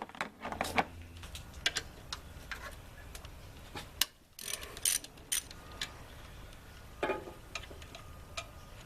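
A ratchet clicks in short, irregular bursts while loosening belt tensioner bolts on a 2009 Toyota Corolla, with faint metallic ticks and clanks between the quiet pauses.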